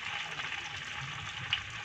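Quail eggs fry in hot oil with a steady, even sizzle, close and moderately quiet, with no talking.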